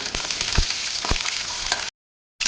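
Urad dal and chana dal tempering in hot oil, a close, dense sizzle with scattered pops and crackles, cutting out briefly near the end before resuming.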